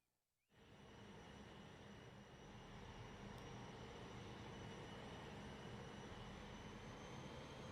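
A freight train in a train video game rumbles past as a steady, loud, continuous roar with a faint high whine. It starts abruptly after a brief quiet moment and holds without pause.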